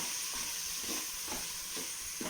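Small shallots with ginger and garlic fry in a pan under a soft, steady sizzle, while a utensil scrapes through them in about five regular, evenly spaced stirring strokes.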